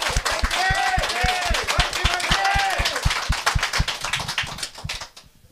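Applause for presidential candidate Lee Jae-myung: rapid, crisp rhythmic clapping from a small group, loud and close, fading out near the end while a voice speaks briefly over it.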